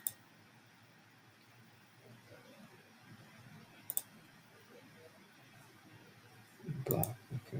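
Computer mouse clicking, a few sparse sharp clicks spread apart, with one stronger double click near the end, quiet and close over a faint background.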